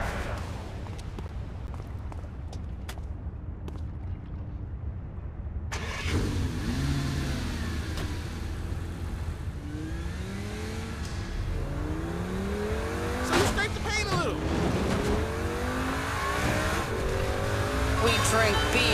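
Car engine in the video game Saints Row IV, a steady mid-pitched drive that swells into revving and acceleration partway through, heard close and continuous with game music and voices alongside.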